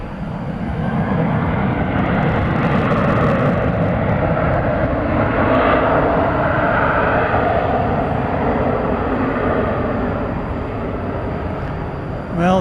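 A Cathay Pacific airliner taxis at DFW Airport at night with a steady, loud jet engine roar that runs the whole time. The level stays even with only slight swells, and no other sound stands out.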